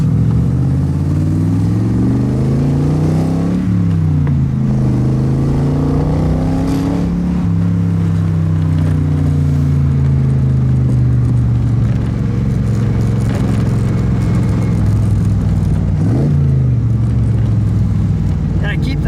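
A 1957 Devin S kit car with a Buick 215 aluminum V8 drives steadily, its engine droning loud and close with gentle rises and dips in pitch as it accelerates and eases off, continuous throughout.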